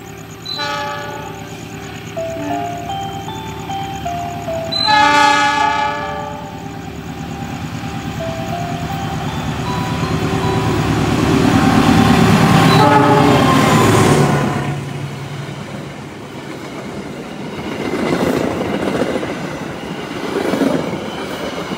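KA Kahuripan passenger train waiting at Langen station as another train crosses, with steady rolling rumble and wagon clatter, brief horn blasts near the start, and a louder surge of passing cars mid-clip before easing off.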